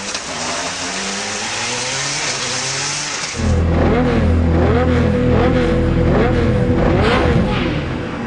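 A Peugeot 307 rally car at the Monte Carlo Rally, with mixed sound for the first three seconds, then a loud, close engine revving and rising through the gears, pitch sweeping up and down continuously.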